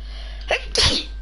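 A single sharp sneeze from someone with hay fever, a brief soft intake followed by a loud close burst, with no talk around it.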